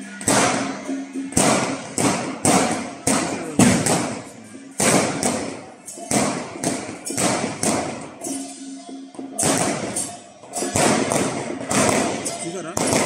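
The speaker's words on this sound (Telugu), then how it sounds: "క్రాకర్స్ కాలుస్తున్నారు" Firecrackers burst during a funeral procession near a cremation ground, a rapid string of loud, sharp bangs with short gaps, close by and steady throughout, with voices faintly in the background.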